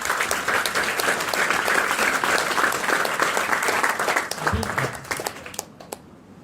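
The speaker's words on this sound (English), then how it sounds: "So we must give Amway a round of applause." Audience applause at an educational talk, a dense steady wash of many hands clapping that carries on loudly for several seconds and then thins out and fades near the end.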